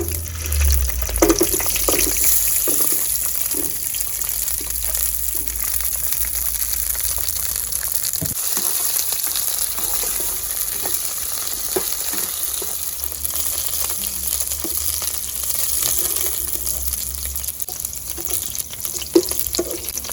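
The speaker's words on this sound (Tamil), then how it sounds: "இப்போ ஆயில் கொஞ்சம் ஊற்றிட்டு கட் பண்ணி வச்சுருந்த வெண்டைக்காவை ஃப்ரை பண்ணி எடுத்துக்கலாங்க" Cut okra (ladies finger) frying in oil in a village-style home kitchen, a steady close sizzle and crackle running continuously with no talk.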